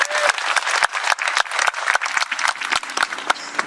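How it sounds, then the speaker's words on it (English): Audience applause at a veterans monument gathering in Estes Park, a lively crowd of hands clapping steadily with sharp individual claps standing out, close and loud throughout. "let's give him a round of applause"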